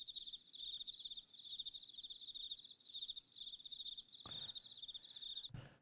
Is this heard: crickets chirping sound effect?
yes